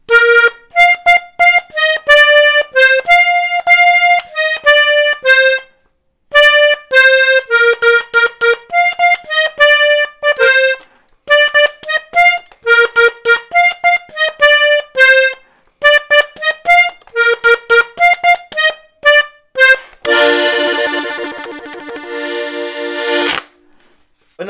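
A song is played on a 31-button accordion in quick, choppy reedy octave notes with short gaps between phrases, closing on a held full chord. The instrument is loud and near, with no talking.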